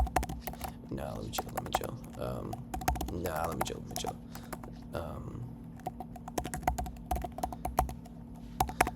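Email address typed on a computer keyboard, rapid close clicking keystrokes in uneven bursts, with someone talking over parts of it.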